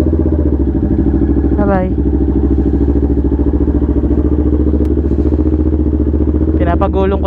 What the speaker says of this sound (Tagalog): So magko-cold start na ako guys.